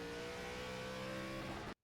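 ARCA race car at full throttle in iRacing, a loud steady engine roar with a sustained tone that cuts off abruptly.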